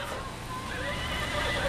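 A toy horse's whinny sounds over a steady background hum, short and wavering, fairly close.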